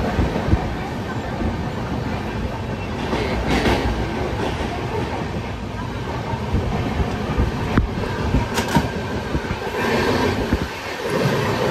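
A train rumbles steadily through Samarlakota station without stopping, with rhythmic wheel clatter and a couple of brief squeals, fairly loud and continuous throughout.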